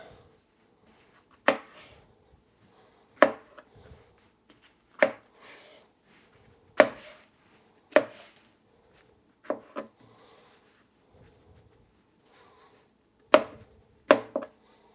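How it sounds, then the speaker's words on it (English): Knife slicing through firm, meaty saffron milk cap mushrooms on a cutting board, about ten sharp, close cuts at uneven intervals separated by near silence, with no talking. "we're just going to slice these"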